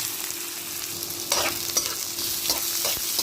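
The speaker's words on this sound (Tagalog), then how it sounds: "Ayan, lutuin lang natin yung bawang guys ha. Ayan, isunod natin yung sibuyas." Garlic and onion sauteing in a pan, a continuous close sizzle broken by several scraping stirs of a utensil near the middle and end, with no talk.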